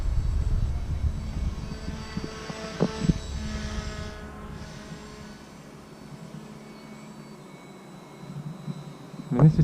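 A Hobbyking paramotor engine drones in flight on a windy day, a buzzing motor over low wind rumble that fades mid-clip and grows louder again near the end.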